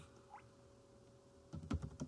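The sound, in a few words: typing a firewall command on a computer keyboard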